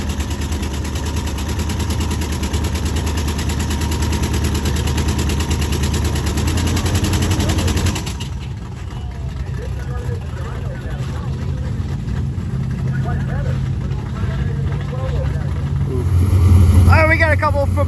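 A Chevy Nova race car with a blown head gasket runs its engine at a drag strip in rough, loud, continuous rumbling, easing slightly midway and swelling again near the end, with voices talking nearby.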